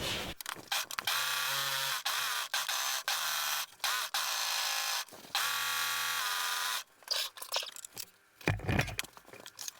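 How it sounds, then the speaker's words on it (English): An overlocker sewing machine finishes the raw edges of fabric pattern pieces for a knitting pouch, running in long steady bursts of whirring mechanical stitching broken by short pauses and stops, loud and close. "I will now overlock around the edges of the pattern pieces."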